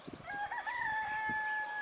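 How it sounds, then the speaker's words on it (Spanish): A rooster crows once, a clear drawn-out call near a Madrid airport arrivals area, set against a steady background hum. "Hostia, un gallo, tío."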